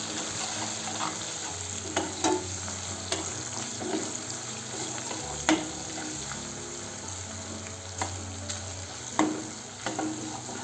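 A spoon stirs chili powder and salt through a sizzling frying pan while making tender bamboo shoot bhaji, with a steady close frying hiss broken by repeated scraping clinks of the utensil.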